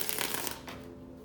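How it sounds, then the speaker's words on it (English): A deck of tarot cards being shuffled by hand, giving quick riffling flutters up close for about half a second before settling into a soft, fading rustle. "I gotta shuffle one more time"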